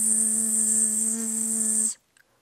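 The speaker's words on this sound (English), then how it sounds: "bee." A steady insect-like buzz, presumably a bee, held loud and close for about two seconds before cutting off abruptly, with no talk over it.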